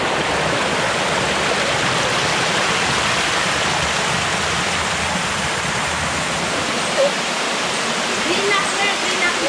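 A cold mountain stream at Villa Filimon in the Kinatagwas nature park rushes steadily, a loud, unbroken wash of flowing water filling the whole stretch at close range.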